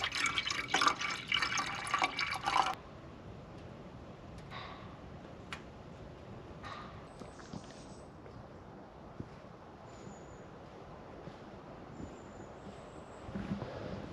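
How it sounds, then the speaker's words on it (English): Water pours into a stainless steel pot at a winter camp beside a canvas lavvu in a short, loud gush, then falls to quiet scattered drips and small ticks. "I'm gonna fill this up with some water"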